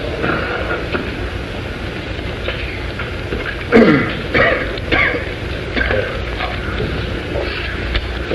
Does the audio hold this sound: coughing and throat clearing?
yes